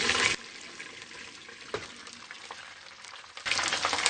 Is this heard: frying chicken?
yes